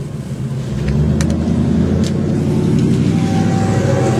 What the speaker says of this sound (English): There goes Justin in his Mustang right there